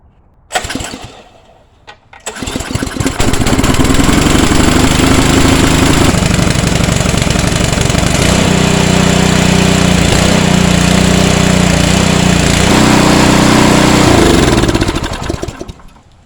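A PowerSmart 2-stage 212cc gas snow blower engine is pulled to start, sputters briefly, then catches and runs at a loud steady roar with some shifts in pitch before cutting off at the end.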